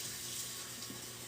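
Cold tap water runs steadily into a sink while tie-dyed fabric is rinsed, a continuous close hiss and splash with no talk.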